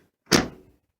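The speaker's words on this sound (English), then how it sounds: "I'll open the door." A single short thunk of a door being moved, a quick muffled knock that fades within half a second, alone in an otherwise quiet room.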